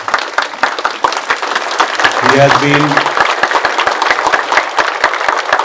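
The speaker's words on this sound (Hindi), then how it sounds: "Please एक बार खड़े होकर इनके लिए जोर से ताली बजा दो." A standing ovation for honoured doctors, with an audience clapping in dense, sustained applause throughout, loud and close, while someone speaks over it.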